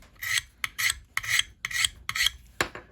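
The sharp spine of a Chicago Cutlery bush knife scrapes the coating off a Bayite ferro rod in six quick, raspy strokes with short gaps between them, close and clear, with no talk.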